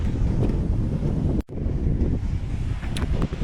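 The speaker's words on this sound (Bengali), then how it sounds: "আপনাদেরকে একটু দেখায় সাগরটা" Wind on a seashore, roaring and buffeting loudly against the microphone, with a low rumble of waves and surf beneath it and a brief dropout partway through.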